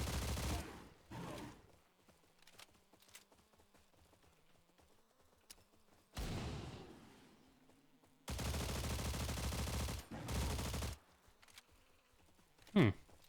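Gunfire rings out in a Slav folklore arena event of an online video game, coming as several sharp bursts and a sustained volley between quieter stretches with some talking.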